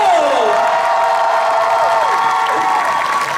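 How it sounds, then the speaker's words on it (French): An audience at a cosplay show at a convention claps and cheers loudly, with whoops over continuous applause while a voice talks over the noise. "encore un tonnerre d'applaudissements pour Tony Traxato."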